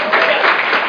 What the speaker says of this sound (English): so everyone start clapping